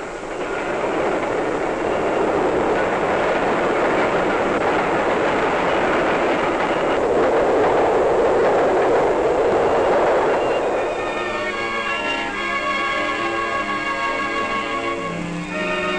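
Train wagons roll along the rails in a loud, steady rumbling roar, then turn to rhythmic clickety-clack with squeaky metallic tones as they pass close by.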